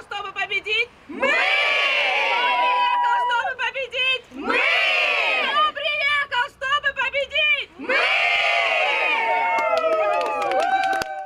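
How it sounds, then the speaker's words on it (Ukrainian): A women's ice hockey team shouts a joyful victory chant on the porch of a city ice arena, three loud bursts of massed screaming and cheering with call-and-response voices in between. "Ось така галаслива і радісна кричалка на ганку льодової арени нашого міста"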